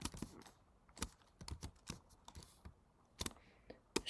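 Computer keys are pressed close up for a Shift Option Command shortcut, a quiet, irregular run of sharp clicks and taps.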